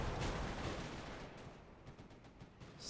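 Panzer IV tanks lay down tank and mortar fire in a World War II strategy game battle, with dense rumbling gunfire and rapid staccato shots layered together, loud at first and then settling into a steady, distant barrage.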